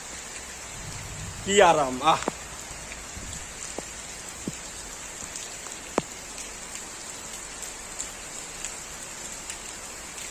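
Steady rain patters on surfaces outdoors throughout, a soft even hiss with a few scattered drop taps, while a person briefly exclaims near the start.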